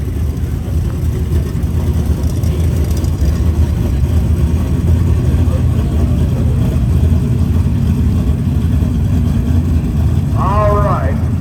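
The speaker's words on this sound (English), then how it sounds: "Our new pairs doing the burnout coming out." A Mustang and an RX-7 do burnouts at a drag race, a continuous loud engine roar with tire noise filling the whole stretch. A voice talks over it, and a short chirp-like squeal rises near the end.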